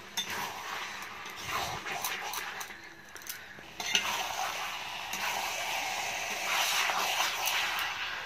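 Marinated chicken pieces frying in spiced oil for chicken kosha, with a spoon scraping and clinking against the pot as it is stirred; steady broadband sizzle, close and continuous, with brief metallic knocks throughout.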